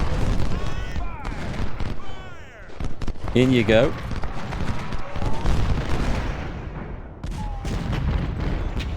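Cannon fire and musketry in the Ultimate General: Civil War game at the Battle of Fredericksburg, with scattered booms and crackling shots amid battle noise while someone talks over it.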